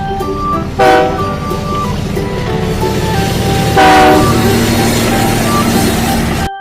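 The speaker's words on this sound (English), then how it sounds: "T. Train." A train sounds two loud horn blasts, one near the start and a longer one midway, over a steady rolling rumble of the passing train.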